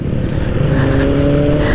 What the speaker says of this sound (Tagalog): Sarap sa tainga. Parang CB 500 data yan, Honda CB 500.